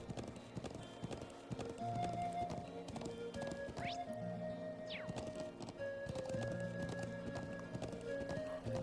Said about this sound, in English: Sorry, you gotta ride your horse.